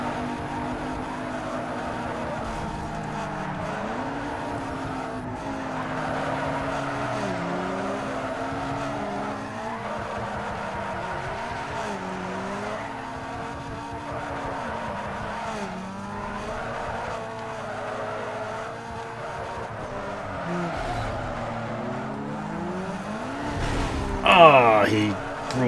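A car drifts in Need for Speed Underground 2 with a modified drift setup, its engine wailing and dropping in pitch while tires squeal in long skids. Someone talks over it, and a sharp crash comes near the end.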